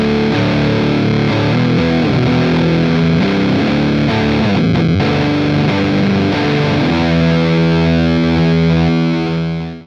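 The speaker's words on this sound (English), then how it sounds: "when the shape control's all the way up, I think it sounds like a really thick, woolly fuzz" Thick, woolly fuzz tone from a FruitFX Melon Cube fuzz pedal with its shape control turned fully up, a dense, loud, saturated distorted guitar playing continuously with a slightly digital edge, ending as the notes ring out.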